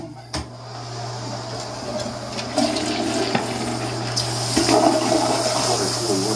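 A toilet flushes in a rental property's bathroom, the rushing swirl building and growing louder toward the end, over a steady low hum, with a sharp knock near the start.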